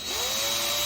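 A powered screw drill unscrews a screw on a KENRONE smart bike lock, giving a close, steady motor whine that climbs slightly in pitch and runs continuously for under a second with no talk.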